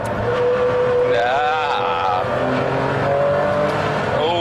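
A McLaren F1 or Ferrari Enzo supercar engine pulls hard, its rising and falling harmonic whine climbing through the revs over a steady rush of road and wind noise during a fast drive.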